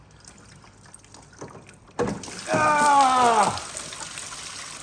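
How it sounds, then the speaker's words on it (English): Water pours out of a car's blocked filter in a sudden gush after near silence, loud and close for over a second before tailing off, with a man exclaiming briefly over it. "that little stream of water coming out the filter. I'm now going to put it out and have the Niagara Falls."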